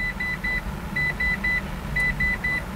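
A Mitsubishi L100 EV electric kei car powering on gives three groups of triple electronic beeps, crisp, evenly spaced and close, over a low steady hum inside the cabin.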